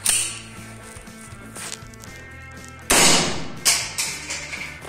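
Airsoft green gas pistol firing 0.3 g BBs at construction safety glasses, giving a few sharp cracks with impact snaps, the loudest near the middle followed by several lighter shots, over a quiet background.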